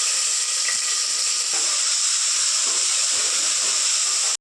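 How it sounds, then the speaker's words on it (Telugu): Chopped onions sizzle in hot oil in a pressure cooker pan for a mutton curry, a steady loud frying hiss with faint stirring knocks, no talk. "ఫ్రెండ్స్, ఇప్పుడు నేను ఇక్కడ ఆనియన్ వేసేస్తున్నానండి."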